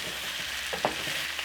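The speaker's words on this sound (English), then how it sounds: "Give this a good stir." Carrots and peppers are stirred in a cooking pot over gentle sizzling, with a few brief scraping spoon strokes near the close.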